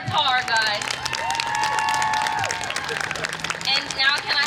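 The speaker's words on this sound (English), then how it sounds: "Let's give a round of applause for them" Audience applause for the ASB student officers at Susan Miller Dorsey High School's 2024 graduation ceremony, with a steady wash of clapping and cheering under voices and ringing tones throughout.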